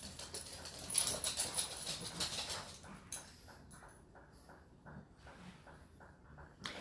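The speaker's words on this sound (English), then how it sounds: "Dog and the cat are playing with the same toy." A dog plays with a toy, whimpering and panting softly with small yips and scuffling, then quieter rhythmic panting toward the end, faint and close with no talk.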